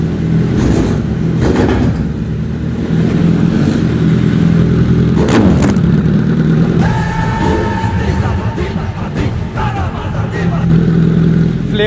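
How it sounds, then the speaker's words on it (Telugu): A Kawasaki Z900 motorcycle engine idles loudly and is revved in several short bursts, with a rising whine in the middle, close by. "సో ఇప్పుడు లైట్గా రేవ్ చేసి చూద్దాం"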